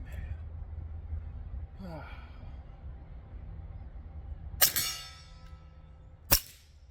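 A suppressed Taurus G3 Tactical pistol fires two sharp shots a couple of seconds apart, sounding as crisp cracks at close range against a quiet background with faint handling noise.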